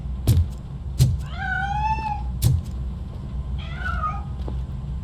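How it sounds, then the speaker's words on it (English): In the video game RoboCop Rogue City, a cat gives two drawn-out, fairly close meows over a low background rumble, punctuated by a few sharp clicks or taps, with no speech. "That cat must be hiding inside."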